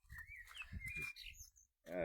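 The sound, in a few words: blackbird singing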